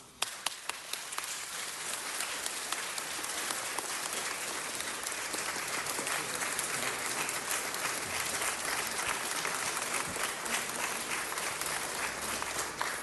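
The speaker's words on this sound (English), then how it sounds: "I think they deserve a big round of applause" Sustained applause from a city council meeting audience, a dense steady patter of many hands clapping at even loudness throughout.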